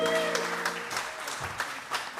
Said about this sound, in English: round of applause for Yuri and the new piano.